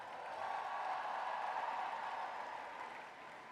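An audience at the opening ceremony of the Women Deliver Conference 2023 applauds with a soft, steady wash of clapping from many hands, heard at a distance and fading slightly toward the end.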